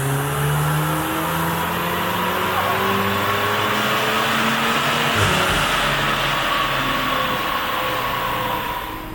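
Modified turbocharged Volkswagen Golf driving along, its engine droning loudly and steadily with gear-linked pitch sweeps rising and shifting, a sustained close cabin roar with no talk.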